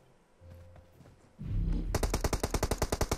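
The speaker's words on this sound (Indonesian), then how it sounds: "Ada nembak hati-hati." Automatic gunfire erupts in a battle royale video game, a fast regular burst of shots starting abruptly after a low rumble and continuing loud to the end.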